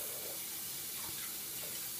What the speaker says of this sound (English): Just filling up the sink with the hot water.